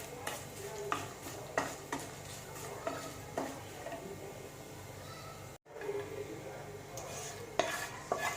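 Onion and chilli tempering frying in a pan for a Kerala tomato drumstick curry, a quiet steady sizzle broken by repeated scrapes and taps of a spoon against the pan, with a brief dropout midway.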